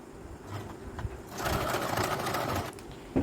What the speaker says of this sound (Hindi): सिलाई लगा रही हूँ।